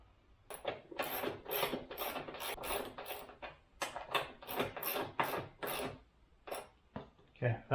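Bolt being tightened by hand during a rear rack install on a DRZ400S motorcycle: repeated short rasping ratchet-like strokes in steady bursts, close by, with a brief pause near the end.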